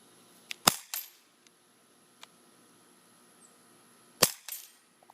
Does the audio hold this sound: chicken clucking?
no